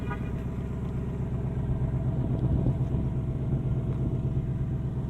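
A 2018 Ford Mustang GT Premium with the performance pack runs with a steady, deep, loud engine rumble from inside the car, holding an even throb for several seconds with no talking.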